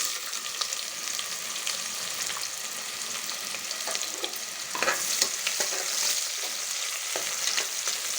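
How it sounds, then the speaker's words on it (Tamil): Chopped onions fry in hot oil in a pressure cooker with cardamom and a bay leaf, a steady bright sizzle with occasional stirring scrapes near the microphone. "இப்போது பொடியாக நறுக்கி வச்ச வெங்காயத்தை இதோடு சேர்த்துக்கலாம்."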